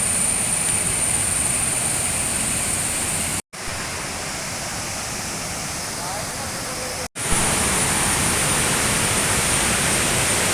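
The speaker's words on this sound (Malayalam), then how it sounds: "റോഡ് സൈഡിൽ തന്നെയാണ് വെള്ളച്ചാട്ടം ഉള്ളത്" Urulikkund waterfall beside a road in Kannur, heard from its lower section as a constant, full-bodied rush of falling water, close and loud, broken twice by brief cuts.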